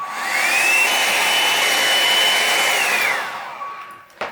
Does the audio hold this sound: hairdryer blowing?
yes